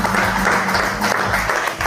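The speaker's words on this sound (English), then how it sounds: "Let us give them a great round of applause." An audience at a public ceremony breaks into loud, dense applause that carries on steadily for a couple of seconds, with low background rumble underneath.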